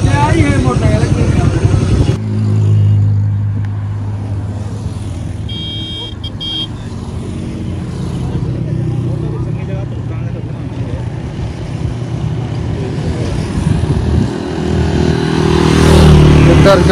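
A motorcycle passes on a road near Fort Monroe, its engine rising and falling among traffic noise and a brief horn toot, while people talk over it.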